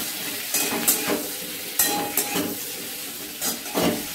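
Capsicum fries in a pan with a steady sizzle, interrupted by several scraping stirs and light clinks of a spoon against the metal, close by and without any talking.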